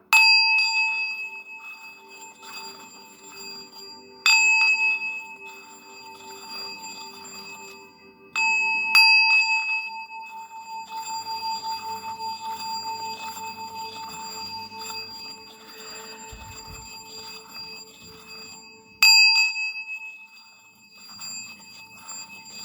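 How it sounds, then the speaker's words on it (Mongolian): A sound stick is struck for an energy cleansing ritual, producing several clear sustained bell-like tones with separate strikes spaced apart, each ringing and slowly decaying in a quiet room. "дуу таяга бас нэг дуургая гэж бодлоо."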